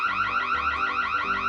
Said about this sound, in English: he tripped the alarm the moment he broke in.